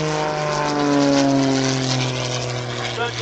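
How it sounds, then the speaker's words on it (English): An aerobatic airplane at an air show drones loudly and continuously, its engine pitch slowly sliding as it loops and rolls overhead, with an announcer's voice talking over it. "Loop the airplane, and while you're looping the airplane, roll the airplane at the same time."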